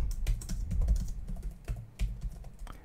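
Fingers type quickly on a computer keyboard, a close, brisk run of clicking keystrokes with a few brief pauses between bursts.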